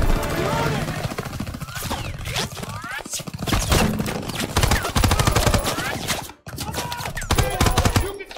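Call of Duty WWII campaign combat brings heavy, continuous close gunfire, with rapid shots and bursts crowding together under voices talking throughout.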